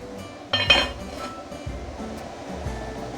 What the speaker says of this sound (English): So now I'm going to close the lid.